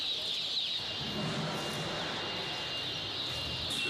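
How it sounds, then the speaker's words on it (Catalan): Breeding chicks wait in boxes before being shipped to China and chirp constantly as a dense, high peeping chorus, steady throughout and heard alone without talk. "Els pollets sementals estan a punt d'embarcar destí a la Xina."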